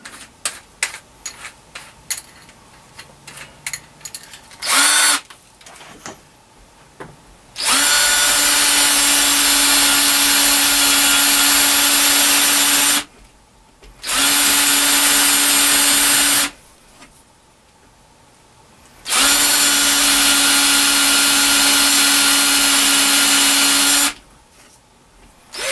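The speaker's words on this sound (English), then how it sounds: "I'm going to go ahead and put a 3/8" spade bit in here to make a countersink for the screw head to go in a little bit" A drill with a 3/8-inch spade bit cuts a countersink in wood for a screw head, three loud sustained whining bursts of several seconds each, separated by brief pauses with small handling clicks and scrapes.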